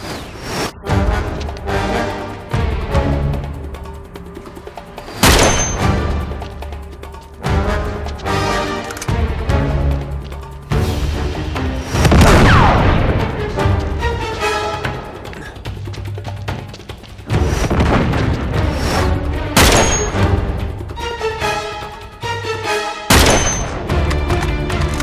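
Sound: gunfire in the video game Uncharted 3

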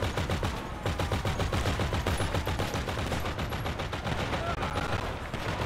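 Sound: gunfire in video game GTA Online

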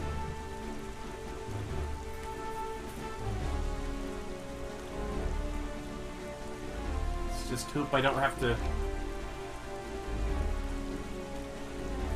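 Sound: rain at sea, from a video game

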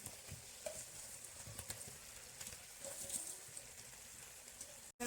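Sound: stirring potatoes into mutton curry with spices

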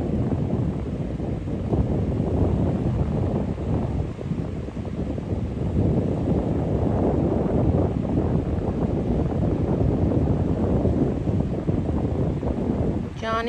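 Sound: wind blowing on a cold breezy day while fishing

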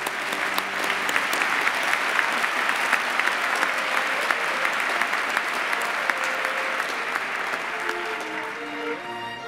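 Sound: audience applause for graduates at a ceremony

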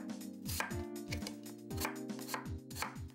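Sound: chopping peeled red potatoes

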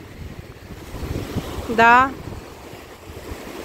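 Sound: ocean waves breaking on the shore

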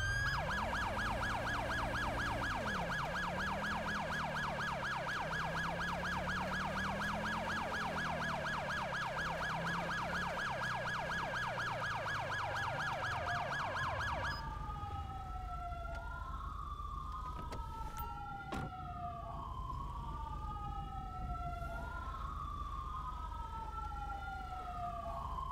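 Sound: emergency vehicle sirens in GTA V video game

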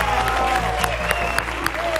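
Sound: audience applause in a TV studio

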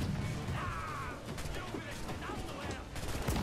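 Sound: gunshot in Assassin's Creed 4 video game

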